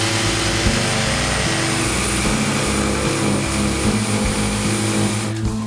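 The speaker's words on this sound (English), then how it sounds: "We're going to use this reciprocating saw." Reciprocating saw notching wood to remove an old electrical box for a vanity light: a loud, continuous buzzing motor with a rapid choppy stroke rhythm, alone, cutting off abruptly near the end.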